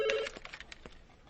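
A telephone gives a brief electronic ring at the start, followed by quiet clicks and faint handling noise in an office setting.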